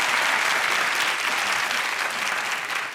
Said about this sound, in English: you guys could clap for Conan if you want